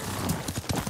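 Horse hooves clip-clop at a steady gait through a video game set in feudal Japan, close and clear, with a faint whinny under the footfalls.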